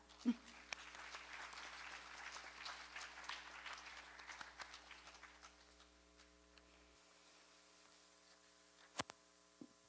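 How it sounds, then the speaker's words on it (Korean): A quiet audience at a lecture on Korea's conflict-of-interest law applauds to welcome a speaker, a faint scattered clapping over a steady electrical hum that thins out midway, followed by a couple of isolated knocks. "이사장님을 큰 박수로 맞이해 주시기 바랍니다."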